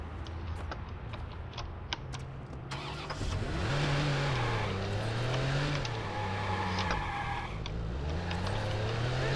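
A car in the video game Watch Dogs revs and drives hard, its engine tone rising and falling with gear shifts while tyres skid and screech, loud and continuous with occasional sharp impacts.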